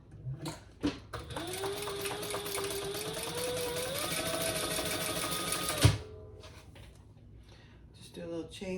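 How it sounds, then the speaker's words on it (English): A sewing machine stitches down the sides of a crossbody bag, running at a steady fast whir for about five seconds before stopping abruptly, with brief handling clatter before and after. "let's sew down each side"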